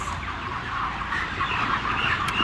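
Chickens raised for poultry in Taiwan cluck and murmur steadily at moderate distance, with a continuous flock chatter and no talk.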